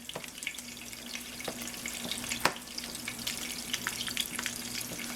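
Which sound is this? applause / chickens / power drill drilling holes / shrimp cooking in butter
shrimp cooking in butter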